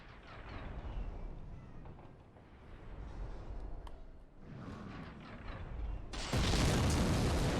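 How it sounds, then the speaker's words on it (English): In Dark Souls at Sen's Fortress, a giant's fireball explosion sends a deep, rumbling boom rolling through a low roar, followed by a sudden loud burst of noise near the end. "Did you hear that explosion? That was a giant throwing a fireball at you."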